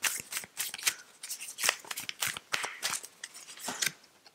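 Tarot cards are shuffled by hand in a run of crisp, papery riffles and slaps, each burst short and bright, coming in quick uneven clusters with no talking.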